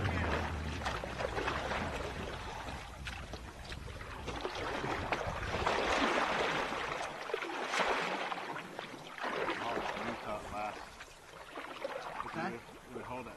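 A small boat pushes through thin ice on a swampy waterway, giving a continuous grinding, crunching wash with surging bursts over a steady motor rumble, with people talking now and then.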